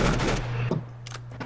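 A gunshot in the video game CS:GO: a rapid burst of close, sharp firing at the start, then fainter cracks trailing off over a low hum.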